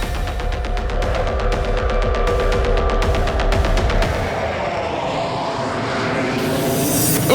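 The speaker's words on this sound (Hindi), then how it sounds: "Boeing 777 2 powerful Rolls Royce Trent 892 engine के साथ पूरी घन गरज जनरेट करते हुए उड़ान भरते हैं।" Boeing 777 jet with two Rolls-Royce Trent 892 engines on its takeoff run, a loud continuous roar that holds steady throughout and swells in hiss toward the end.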